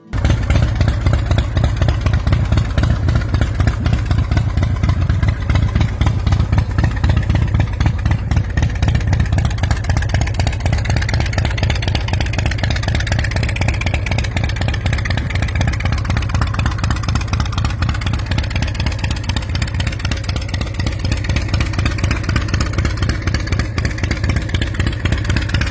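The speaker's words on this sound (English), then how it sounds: "own a piece of custom motorcycle excellence with this 2006 Big Dog Mastiff" A 2006 Big Dog Mastiff custom motorcycle engine idles close by with a loud, deep, steady rapid throb, running evenly and alone for the whole stretch.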